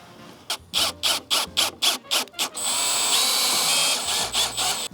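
A drill drives screws into 1x2 wood, starting with a run of short, rhythmic trigger bursts and then settling into a steady, continuous whir. A few more short pulses follow near the end. The drilling is close and fairly loud, with no talking.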